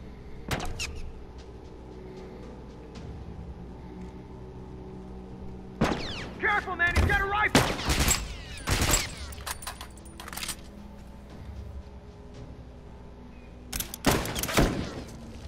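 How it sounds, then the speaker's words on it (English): Gunfire aimed at players in The Last of Us Remastered multiplayer: scattered sharp shots and short bursts, some loud and close, others farther off, spread irregularly over a low background rumble. "They're trying to shoot your head off."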